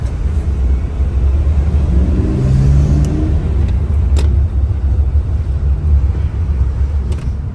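A Ford truck with an old ZF 5-speed gearbox drives along a rough main street in Ketchikan, Alaska, giving a steady, close engine and road rumble with faint rattles and no talk.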